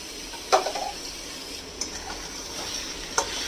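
Spiced pointed gourd being stirred with salt in a pan over low flame, oil-free: a few soft scraping clinks of a spoon against the pan with a faint steady sizzle underneath, no voices.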